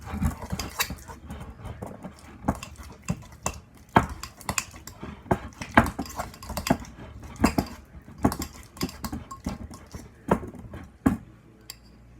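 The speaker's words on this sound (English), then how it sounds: "So you put it in your bowl and then just mash it up" Food is mashed in a bowl with a utensil, giving irregular clinks and scrapes of metal against the dish. The knocks come close and uneven, some sharp and loud, over about twelve seconds with no talking.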